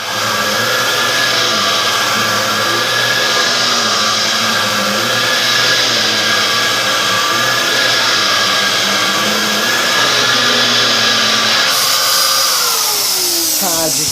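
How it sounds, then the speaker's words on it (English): A Dyson vacuum cleaner runs steadily at close range, giving a constant loud motor whine with a high-pitched tone that holds for most of the clip. Near the end the pitch shifts and falls as the motor changes speed. "Let's have the Dyson running."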